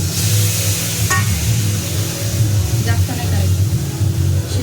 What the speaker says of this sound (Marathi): शिमला आपण फक्त हलकी फ्राय करून घ्यायची आहे